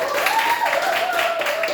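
Students in a classroom clapping their hands together in a short, steady burst of applause, mixed with voices and a sustained tonal hum running through.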